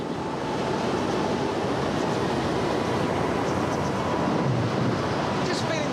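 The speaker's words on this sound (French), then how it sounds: "70 km/h, c'est du vent de force 8 ou 9." Strong wind gusting at about 70 km/h across the Hong Kong airport construction site; a loud, constant roaring rush fills the whole stretch, steady from start to finish.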